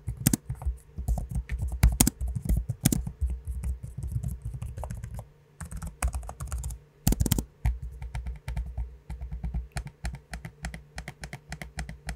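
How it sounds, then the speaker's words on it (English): Someone types on a Dell Inspiron 16 Plus laptop keyboard and uses its trackpad, with quick irregular key clicks, bursts of tapping and occasional louder thumps and clicks, close and alone. "here's a sample of me using both the keyboard and trackpad so you can hear what they sound like for yourself."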